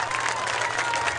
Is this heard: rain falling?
no